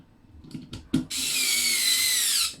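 An electric screwdriver whirs steadily for about a second and a half while driving a screw into a Tamiya TT01 Type E truck model kit chassis, preceded by a few light clicks and taps.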